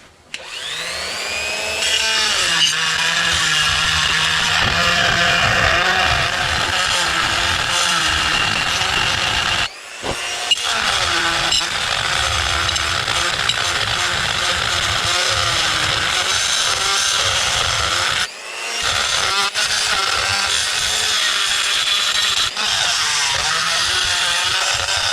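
A power grinder working a cylinder head in a drilling and tapping job on Super Flow heads: a loud, continuous, high whining grind, close up, briefly stopping twice before starting again.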